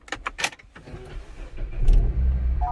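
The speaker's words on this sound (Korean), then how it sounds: "엔진 스타트 버튼이 여기 있습니다." A used car with a card key and push-button start fires up: a few short clicks and button beeps, then the engine catches and settles into a low, steady idle close by.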